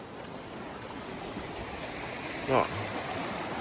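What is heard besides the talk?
mountain stream water flowing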